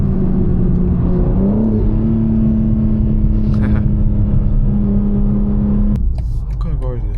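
BMW M4 Competition accelerating hard at night while racing a Tahoe, its engine droning loudly from inside the cabin with a rising then steady pitch, cut off abruptly near the end as people talk.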